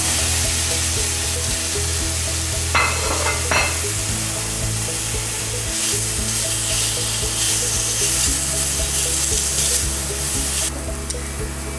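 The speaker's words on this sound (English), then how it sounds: "we're going to heat some oil in the pan and add some thinly sliced peppers and onions" Thinly sliced peppers and onions sizzle in hot oil in a pan, a steady loud crackle and hiss with occasional stirring, no voices.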